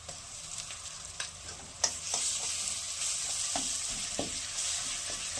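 Ginger garlic paste frying with chopped onion in hot oil makes a soft, continuous sizzle, with occasional spatula taps and scrapes as the mixture is stirred; no talking.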